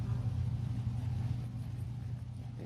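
A Corvette race car engine at a drag racing bracket event gives a steady, close, low rumbling drone, holding an even idle without revving up or down.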